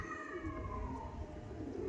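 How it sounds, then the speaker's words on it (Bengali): A female Andhra pigeon coos in low, wavering tones, close and fairly quiet over a faint steady background. No voices are present. "এটা হলো মাদি পায়রা।"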